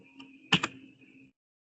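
A few quiet keyboard keystrokes click close by, two sharper taps standing out in a brief burst over a faint electronic hum.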